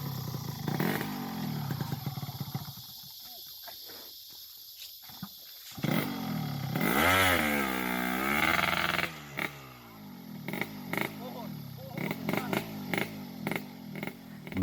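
A small motorcycle carrying ballot boxes labours along a damaged forest road in Merauke, Papua, its engine revving and straining in repeated surges and drops, loud and close, with rattling clatter between bursts.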